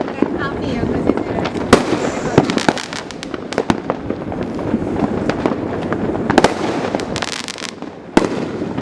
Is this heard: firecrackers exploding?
yes